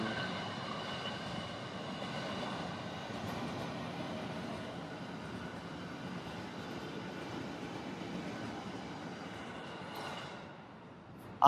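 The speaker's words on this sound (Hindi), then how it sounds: "ये यहाँ की मेट्रो ट्रेन है" A metro train rolls past with a steady rumbling, clattering roar that holds for several seconds, then fades before a sharp click at the end.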